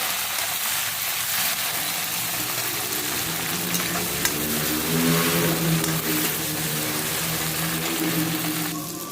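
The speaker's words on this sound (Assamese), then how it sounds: "আৰু এয়া কাটি লৈছিলো বিলাহী সেইখিনিও দি দিছো আৰু অকমান সময় ভাজি লম" Chopped tomatoes and garlic fry in a hot pan for a home-cooked dosa meal, giving a steady, close sizzle with soft stirring scrapes throughout and no talking.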